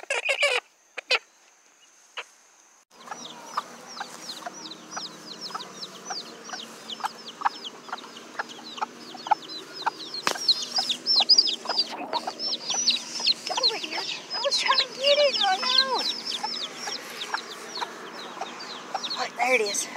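Chickens cluck and squawk continuously, a dense busy flock growing louder over time, with a rooster-like call among them and people talking now and then in the background.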